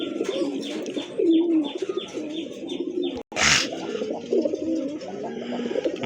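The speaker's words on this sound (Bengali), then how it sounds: "মাশাল্লাহ, আরেক জোড়া কবুতর।" Pigeons offered for sale coo in low, repeated rounds close by, with one brief loud burst of noise partway through and no speech.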